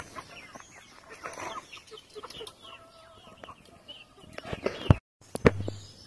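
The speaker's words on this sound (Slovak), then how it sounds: "Takže mám všelijaké farby sliepok. Obyčajné, rasa taká ako miešaná, leghorn" Leghorn and mixed-breed hens in a farmyard, clucking softly and intermittently at moderate distance, with a sharper louder squawk near the end.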